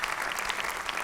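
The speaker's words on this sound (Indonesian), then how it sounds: "tepuk tangan aja untuk aliran sesat" Audience applause on an Indonesian comedy talk show fills the whole moment, a dense steady patter of many hands clapping at once.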